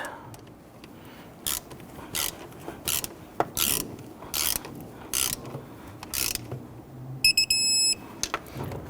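A ratchet wrench clicks in repeated short bursts while turning a nut on a 2011-2015 Kia Sorento during an oil pressure switch replacement, crisp and close with brief pauses between strokes, ending in a faster ratcheting run.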